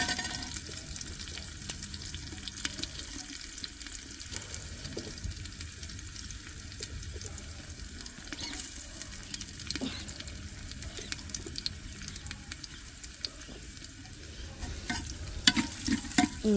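Garlic and ginger frying in a pan while being stirred: a soft, steady sizzle with repeated scraping and light clatter that grows louder toward the end, with no voices.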